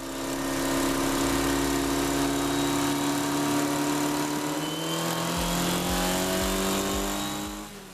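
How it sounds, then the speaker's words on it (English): A Formula Ford race car engine revving hard at Snetterton circuit, a loud continuous onboard drone climbing steadily in pitch toward maximum revs, then dropping sharply as the next gear is pulled near the end. "I'm revving the car to the maximum RPM in third and then pulling fourth"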